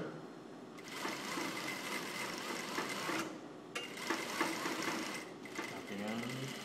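A sewing machine stitches a slightly curved blouse seam with a fast, steady mechanical chatter, pausing briefly a couple of times, while a person talks quietly over it.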